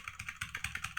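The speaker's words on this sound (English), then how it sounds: "Here we're typing. You hear us typing?" Quick, uneven clicks of fingers typing on a computer keyboard during a podcast recording, a rapid run of light taps close to the microphone with no talking.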